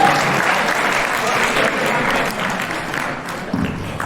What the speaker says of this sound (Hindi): इनके लिए भरपूर तालियां।